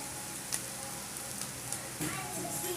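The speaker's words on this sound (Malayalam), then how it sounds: "അത് കഴിഞ്ഞ് നന്നായി ഫ്രൈ ചെയ്യുക" Thinly sliced onions frying in oil in a pan for a crab curry, giving a steady, even sizzle throughout with a faint clatter or two and a brief stir near the end.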